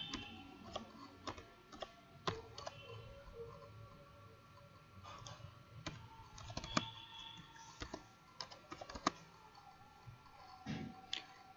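Quiet, rapid clicking of computer keyboard keys being typed in short bursts, close up and soft, with a few sharper clacks over a low background hum.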